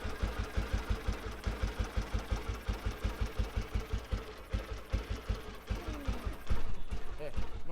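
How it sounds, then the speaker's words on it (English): Vintage motorcycle with a big flywheel idling low and steady, a slow even chug of loud, regular firing pulses close by, running alone with no throttle blips. "That low idle, the big flywheel in play."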